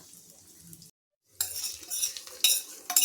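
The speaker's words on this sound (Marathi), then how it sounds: "आता आपण ही फोडणी आपल्या गाजरांवर टाकणार आहोत" Hot tempering of cumin, mustard seeds and dal in oil poured over grated carrots, bursting into a loud sizzle after a brief silence, with spoon clinks and stirring close by.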